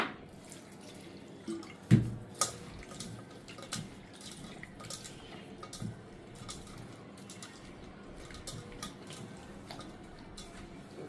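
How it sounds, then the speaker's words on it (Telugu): Tamarind washed by hand in a bowl of water for a ginger chutney, with faint, scattered drips and small splashes in a quiet kitchen and a couple of sharper knocks near the start. "చింతపండు కడిగేసాను శుభ్రంగా ఇది మునిగేలాగా వాటర్ పోసుకున్నాను"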